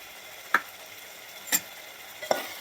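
Garlic, ginger and coriander paste sautéing with onion and tomato in a pan for kurma, a low steady sizzle broken by three sharp spoon taps and scrapes.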